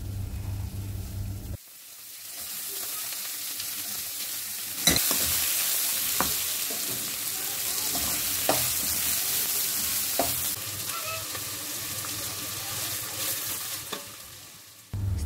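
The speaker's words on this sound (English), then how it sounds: "Stir fry the capsicum and onion until it's fragrant for a minute or two on high heat" Green chilies, onion and capsicum stir-fried over high heat for beef Hakka noodles, with a steady close sizzle punctuated by repeated scraping and clanking of a spatula against the pan.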